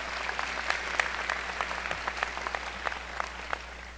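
Audience applause at a university business school commencement ceremony, a steady wash of many hands clapping at moderate distance, sustained throughout with no speech over it.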